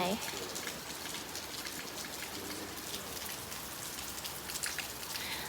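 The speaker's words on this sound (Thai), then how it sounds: "ฝนตก" Steady rain pours down during a stay in Songkhla, a dense, even hiss of drops striking surfaces that runs unbroken and close throughout.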